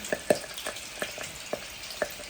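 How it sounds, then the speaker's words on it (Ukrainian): Homemade sausages of home-raised broiler chicken sizzle in hot fat in a pan, giving a quiet run of sharp crackles and pops that recur every half second or so, close up with no talking. "Бачите, вони будуть шкварчати."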